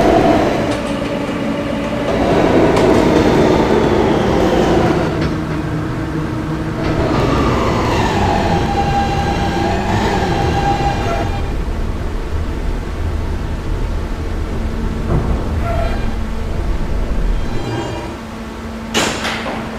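Kawasaki R160 Siemens subway train on the E line running through the tunnel, a loud rolling rumble with squealing tones and clanks, steady the whole time and overlaid by an automated announcement.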